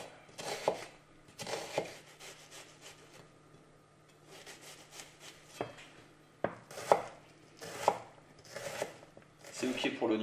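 A knife finely chops an onion on a cutting board for a green lentil soup, giving rapid, close, crisp knocks in uneven bursts with scraping in between, under occasional talking.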